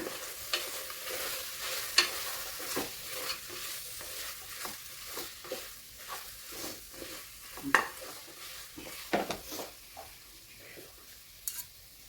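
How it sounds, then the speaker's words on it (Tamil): Biryani masala powder is stirred into mutton in a pot, producing a quiet, gentle sizzle with irregular scrapes and metallic clinks of a spoon against the pot. "பிரியாணிக்கு தேவையான மசால் தூளை நம்ம போட்டுடலாம் அரைச்சி அரைச்சிட்டு வந்த பார்த்துக்கலாம் எல்லாமே போட்டு கலந்து விட்டுக்கோங்க"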